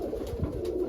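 Pigeons coo nearby in a bird enclosure, a soft low throaty burbling that runs steadily through the moment with no talking.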